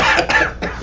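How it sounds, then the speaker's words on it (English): Several harsh coughs come in quick bursts close to the listener, with short gaps between them and no talking. "Can't stop coughing like in the scriptures with that pestilence."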